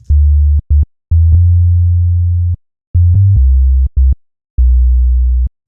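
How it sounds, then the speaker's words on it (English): A pure, low synthesized sine bass plays a series of sustained notes and short stabs, changing pitch, with clean gaps of silence between them. "it's a really lovely sounding sine wave"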